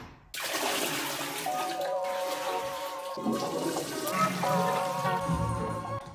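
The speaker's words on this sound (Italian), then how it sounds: "Il water non funziona, ci tocca buttare la bacinella per tirare l'acqua" A broken toilet flushed by hand, water poured from a basin into the bowl, rushing and gurgling steadily for several seconds, close and fairly loud.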